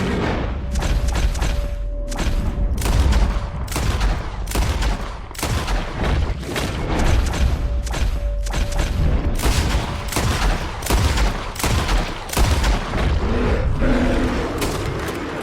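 Gunfire in Red Dead Redemption 2, a loud, heavy volley of booming shots cracking repeatedly over about fifteen seconds, close and relentless, with brief cries mixed in.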